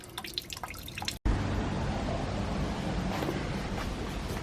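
Antifreeze draining quickly from a car radiator into a bucket, a steady close rushing, splashing pour that starts abruptly after a brief pause and continues without letup.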